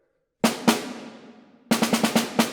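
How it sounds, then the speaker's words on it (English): Snare drum etude played with sharp marcato accents: two crisp opening strokes with a long ringing decay, then a quick run of punchy, evenly spaced hits, close and alone. "But with those Marcato accents, I can make it a little bit sharper by moving a little bit quicker."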